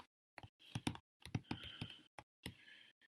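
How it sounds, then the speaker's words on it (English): Quick bursts of keyboard typing on a device, clicking keys in irregular clusters with short pauses between, close and fairly quiet with no talking. "I can start typing."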